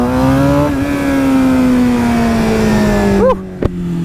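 Motorcycle in first gear revving hard for a clutch wheelie, a loud steady engine drone with a gradually falling pitch, then a sharp rev blip and cut near the end.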